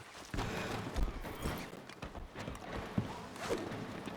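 Horse hooves clip-clop in a video game, steady uneven footfalls over a dense rumbling background with faint voices.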